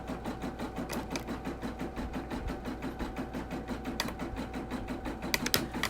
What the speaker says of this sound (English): This machine right here is the Brother PRS 100.